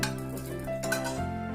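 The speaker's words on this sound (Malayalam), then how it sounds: "ഇനി നമ്മൾ ഇത് മൂടി വെക്കാൻ പോവാണ്" A lid set over a pot of biryani topped with ghee-fried cashews gives a close metallic clink and clatter of cookware, with a brief ringing tone near the middle of a short, steady kitchen clip.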